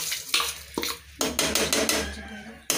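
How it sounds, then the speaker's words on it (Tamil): Biryani rice tipped into a metal cooking pot with mushrooms, sharp clanks of a ladle or spoon against the pot and a scraping, stirring rattle, close and clear without talk. "இப்போ நம்ம வந்து 1/2 கிலோ பிரியாணி அரிசி வச்சிருந்தோம்ல அதை நீங்க போட்டுக்கலாம்"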